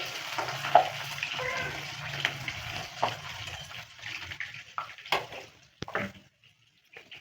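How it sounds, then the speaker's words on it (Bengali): Cumin seeds, dried red chillies and green chillies fry in hot oil for chicken bhuna, giving a steady close sizzle with scattered spluttering pops and a few sharp clinks near the end. No voices are heard. "জিরে এই টাইমে কিন্তু একটু ফুটবে"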